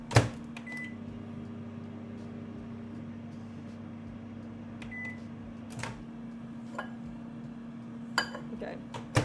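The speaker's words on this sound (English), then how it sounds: "I can microwave for 2 seconds." A microwave oven hums steadily and close by, a constant low drone with a few clicks and clinks scattered over it, while a person speaks softly at times.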